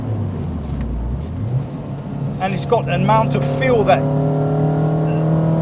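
A Renault Clio 172 Cup hot hatch revs hard on the road, its engine note climbing sharply and staying loud and sustained, close by beneath someone talking throughout.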